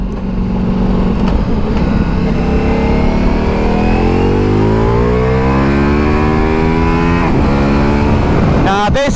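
A Ducati Multistrada Pikes Peak motorcycle engine in race mode, loud and close, its revs rising steadily and then dropping back while a rider talks over it.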